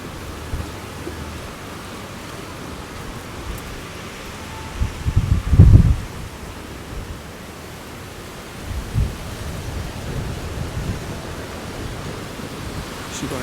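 Strong winter wind roars through palm trees on the coast at Durrës, Albania, a loud broadband rush that swells into heavier gusts and rustling, with no clear talking.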